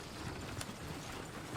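Horse hooves clip-clop in the Western video game Red Dead Redemption, a quiet, steady stream of muffled steps over a soft background bed.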